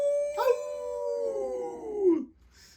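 A human voice imitates a wolf howl: a single long, close howl that slowly falls in pitch before breaking off.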